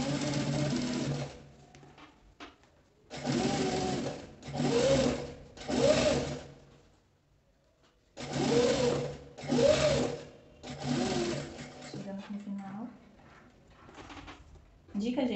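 A sewing machine stitches nylon-backed fabric in short whirring runs separated by pauses, close and fairly quiet, while someone speaks Portuguese between and over the bursts.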